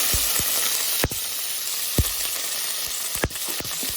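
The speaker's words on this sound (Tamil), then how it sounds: "இது எல்லாமே எண்ணெயிலே நல்லா வதங்கட்டும்." About twenty small shallots, a few garlic cloves and curry leaves fry in oil after mustard and fenugreek seeds, making a steady bright sizzle punctuated by a handful of sharp ladle clicks against the pan, alone and close.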